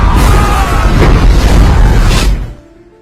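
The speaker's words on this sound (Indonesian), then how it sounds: "Hingga akhirnya terjadilah ledakan super dahsyat yang meratakan semua pasukan" A huge bomb explosion from a pilot's air strike in a civil-war film, a loud, dense roaring blast that rumbles for about two seconds and then quickly dies away.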